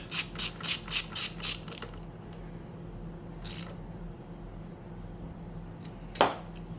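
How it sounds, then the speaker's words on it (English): Tightening a gear oil drain bolt on a Yamaha C3 scooter: a quick run of about seven rhythmic ratchet clicks up close, then quiet with a few isolated metallic clicks, no voices. "So let's get the drain bolt in there first."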